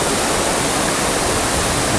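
Tamaraw Falls at Puerto Galera pours in a steady, dense roar of falling water, a constant broadband rush with no pauses.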